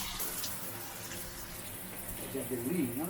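Water runs steadily from a DIY camper shower head, a continuous hissing spray with a faint voice briefly audible near the end.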